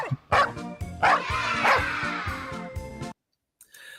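Two dogs bark repeatedly in a car, a steady run of sharp, loud barks close by for about three seconds, then a brief quiet with a faint yip at the end.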